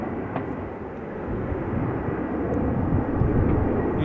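An Airbus A380 taxiing at Amsterdam Schiphol Airport sends out a steady low engine rumble that grows gradually louder over a few seconds, with no voices.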